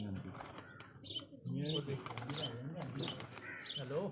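Pigeons on a rooftop coo and flap their wings while someone talks throughout, the bird sounds mixed under and between his speech.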